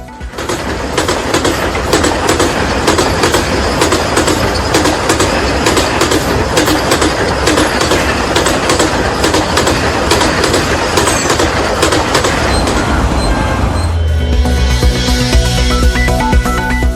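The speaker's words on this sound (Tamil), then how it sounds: "சென்னை எழும்பூர் நெல்லை இடையேயான வந்தே பாரத் ரயிலில் மேலும் 8 பெட்டிகள் இணைப்பு, 16 பெட்டிகளுடன் ரயில் இயங்க தொடங்கியதை வீடியோவாக வெளியிட்ட தெற்கு ரயில்வே" A 16-coach Vande Bharat express train rolls past steadily and loudly with a dense clatter of wheels on rails, then its tone changes near the end as it moves off, with no voices.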